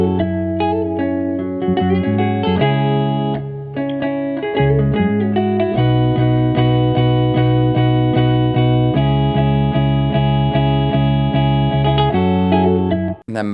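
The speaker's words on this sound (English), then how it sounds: "So the bass and guitars together sound like this." Distorted electric guitars and bass play together in a steady driving riff, loud and dense, with chords shifting and a quick cutoff at the end.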